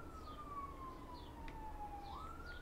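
A distant police siren wails faintly in the background, one long steady tone that slowly sinks and then swings back up, with no voices over it.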